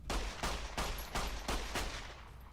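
Gunfire in Fallout: New Vegas on PS3, a rapid string of about six loud, booming shots in quick succession, each with a short decay, and no talking.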